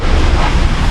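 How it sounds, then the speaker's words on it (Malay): Ocean waves roll onto the shore at a fishing campsite in Port Dickson, a loud, steady wash of surf with heavy wind rumble, close to the microphone. "sambil menikmati duruan ombak yang membelai"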